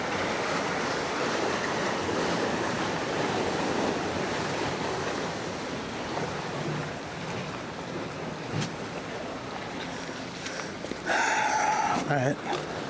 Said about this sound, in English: the waves got so noisy